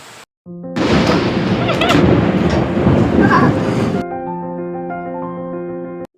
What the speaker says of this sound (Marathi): धोधो पाऊसही चालू झाला आणि इतका की विचारू नका